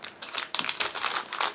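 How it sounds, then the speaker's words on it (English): A sealed plastic bag from a Meng KV-2 tank model kit is cut open and crinkled, giving dense, crisp rustling bursts close up with no talking. "plastic bag here is sealed, so we're gonna cut through"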